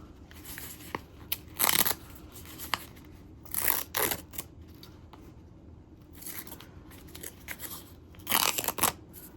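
Foundation paper is torn off sewn fabric in quick crisp bursts of ripping and crinkling, three main rips spaced a few seconds apart with lighter rustles between, close and dry, with no talking.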